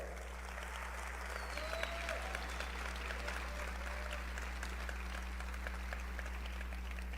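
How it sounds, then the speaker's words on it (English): Steady applause from an audience fills the room as a motivational speaker takes the stage, a continuous wash of clapping at moderate volume with a low electrical hum beneath it. "Just give her another round of applause."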